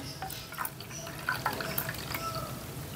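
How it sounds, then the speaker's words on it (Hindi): Water trickles and splashes softly into a bowl of semolina mixture in small, uneven pours, quiet and close, with faint drips between. "बस थोड़ा थोड़ा करके ना पानी डालते जाएं"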